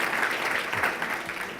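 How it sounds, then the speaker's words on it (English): Audience at a mayor's state of the city address clapping in a short burst of scattered, overlapping hand claps, moderately loud and close, filling the brief moment without speech. "I like that you guys did multiple claps for that."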